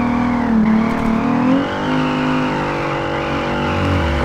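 A 1000-horsepower Nissan S13 drifts in the racing game Peak Angle. A loud, sustained engine roar is joined by long tire squeals that rise and dip as the car slides, with no voices.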